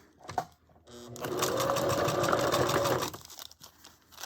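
A sewing machine stitching the side of a glassine bag: a close, steady motor whir of about two seconds, framed by rustling and crinkling of paper as it is handled.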